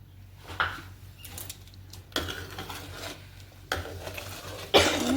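White vinegar being mixed in a bowl, with a few scraping, clinking stirs of utensil against the bowl in short bursts, fairly close over a low steady hum.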